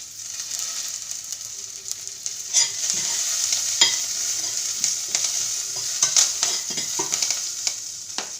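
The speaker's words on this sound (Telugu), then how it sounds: "ఫస్ట్ గ్రీన్ చిల్లీస్ వేస్తున్నాను. గ్రీన్ చిల్లీస్, కర్రీ లీవ్స్, కరివేపాకు," Green chillies and curry leaves fry in hot oil with a steady, close sizzle, broken by a few sharper crackles and stirring scrapes, with no talking.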